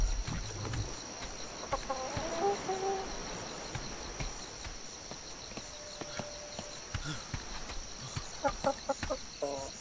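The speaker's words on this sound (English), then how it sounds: "Oh, the chickens are coming." Farm chickens clucking nearby, scattered bursts of short clucks and calls over a faint insect-like background hum, with some knocking noises and no talking.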